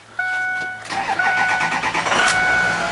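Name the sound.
2005 Ford F250 truck engine cranking and starting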